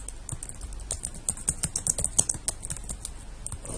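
Keyboard shortcuts tapped on a computer keyboard, a quick irregular run of close, crisp key clicks with no talking.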